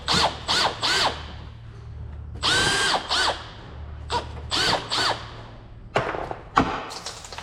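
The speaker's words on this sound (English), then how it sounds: "This really is an impact driver." An impact driver fitted with a socket removes fuel pump nuts on a VT Commodore, firing in several short, loud whirring bursts separated by brief pauses, with a couple of clunks near the end.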